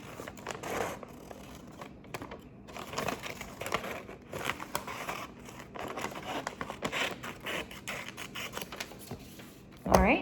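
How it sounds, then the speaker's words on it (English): Scissors cut straight up a line in paper, giving a string of crisp snips and papery crinkling and rustling, with a person talking over much of it. "I'm gonna take my scissors and cut straight up on that first line"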